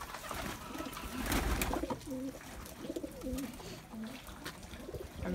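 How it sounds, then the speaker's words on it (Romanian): Pigeons in an outdoor loft coo repeatedly in soft, rolling phrases, fairly close, over damp background noise as snow melts into mud. "Porumbeii astăzi nu o să mai fie eliberați."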